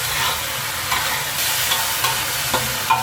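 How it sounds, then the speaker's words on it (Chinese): Fish-fragrant eggplant stir-fried in a wok after a cornstarch slurry thickens the sauce, with a steady close sizzle broken by several sharp scrapes and clanks of the spatula against the wok. "快速翻炒几下就能出锅装盘了。"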